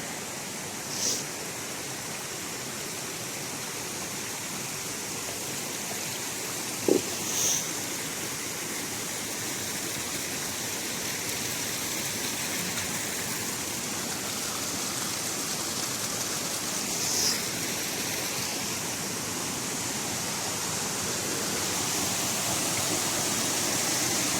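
Water flowing on the Walls of Jericho hike, a steady broadband rush like a cascade or stream, continuous and fairly close, with occasional faint knocks.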